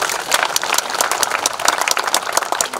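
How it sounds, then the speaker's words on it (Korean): Audience applause at the opening ceremony of the Hakbong history and culture park, dense rapid clapping from a crowd held at a steady level throughout with no speech. "그래서 다 같이 좀 박수 한번 해주세요."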